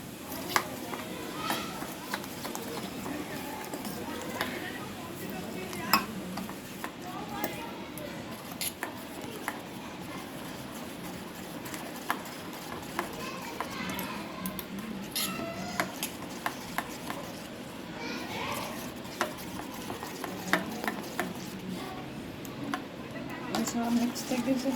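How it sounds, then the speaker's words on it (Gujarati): A spoon stirs masala with water in a metal vessel for palak paneer, giving light, irregular clinks and scrapes over a long stretch at a moderate distance, with soft kitchen background noise. "મિક્સ કરી લઈએ ચમચથી"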